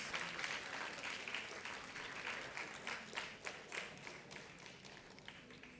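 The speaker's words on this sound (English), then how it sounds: "A big, big round of applause." An audience applauds an award winner at a school awards ceremony, a sustained, even wash of many hands clapping that carries on for several seconds, with a few individual claps standing out near the end.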